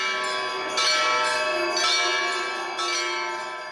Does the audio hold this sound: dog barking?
no